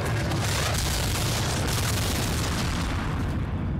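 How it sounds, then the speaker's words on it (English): A loud, sustained explosion rumble from Ghost of Tsushima, a continuous heavy roar with deep low-end energy filling the whole moment, close and overwhelming. "I got exploded"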